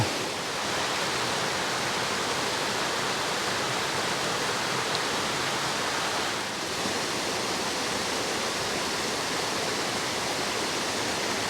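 Small waterfalls on the Bistrica stream, a dense continuous rushing roar of falling water, steady and fairly close throughout with no voices.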